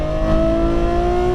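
Ferrari F12 Berlinetta engine at full throttle on a track, heard on board: a loud, steady high-pitched roar with rising harmonic tones as the car accelerates hard, no talking.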